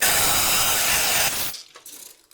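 Ceramic tile being cut with water cooling gives a loud, steady gritty hiss for over a second, then stops abruptly and leaves faint scraping and drips, with no talking.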